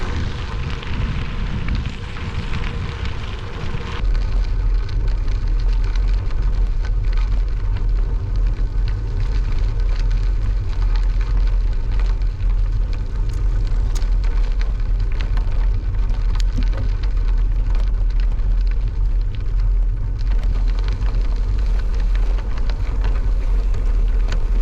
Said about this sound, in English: the rain is starting to come down pretty heavily